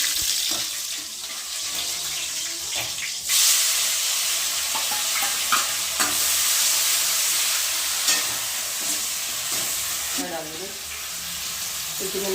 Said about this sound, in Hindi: तो कढ़ाई चढ़ा दी भाई, क्योंकि दाल उबाल दी थी पहले ही, इसमें लगाऊंगे छौंक।